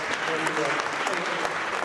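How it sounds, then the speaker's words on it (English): Audience applause at a gathering honoring a late man named Corey, a steady wash of clapping from a crowd with voices mixed in, brief and moderately loud. "Round of applause for the marvelous"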